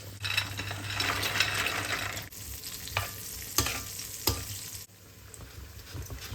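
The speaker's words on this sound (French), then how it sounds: "En faisant tourner comme ça ma petite poêle, je m'assure que tout est cuit à même température, l'huile restant très très chaude." Guanciale frying in very hot oil in a small pan being swirled, a steady loud sizzle with clinks and scraping stirs, continuous with a brief dip near the end.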